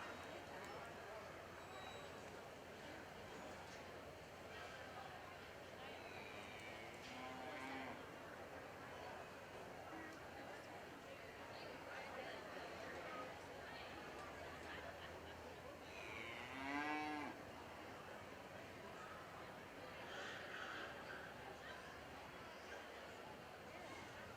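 Cattle low at a market steer show, a few drawn-out moos rising out of a steady crowd murmur in a large arena, with voices talking throughout.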